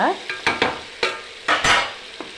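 Cooked dal being mashed and stirred in hot oil for Andhra sambar, several sharp scraping strokes of a spoon against the pan with a soft sizzle underneath, close and alone.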